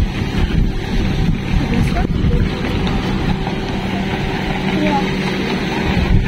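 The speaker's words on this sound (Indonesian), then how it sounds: "Namun di sini adalah boat-boat kecil, speedboat ya." Small speedboats at Sanur harbour in Bali, a steady rumble of water and engines mixed with strong wind buffeting the microphone, continuous and fairly loud throughout.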